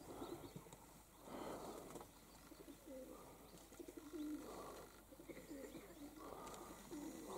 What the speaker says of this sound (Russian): Вот кверху голуби любуются, у меня на голубятне номер один.